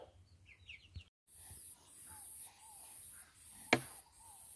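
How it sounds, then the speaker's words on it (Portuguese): A hen brooding in a nesting box on a farm gives a few soft, low clucks and murmurs close to the microphone, with faint higher chirps and a sharp knock partway through. "Aqui na caixa tem outra galizezinha chocando."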